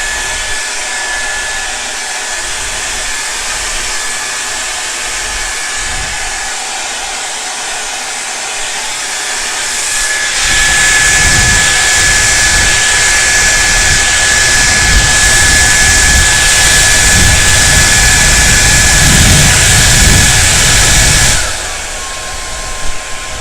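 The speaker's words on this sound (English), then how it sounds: "you want your blow dryer to be with the comb" A hair dryer blow-drying a beard whirs steadily on a low setting, then switches to a louder, stronger blast for about ten seconds before cutting back down.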